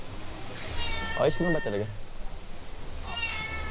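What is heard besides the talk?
cat meowing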